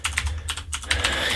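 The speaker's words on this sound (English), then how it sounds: "A mechanical keyboard typing away in the background." Fast clicking keystrokes on a mechanical keyboard, close and crisp in quick bursts with a short pause midway, over a low steady hum.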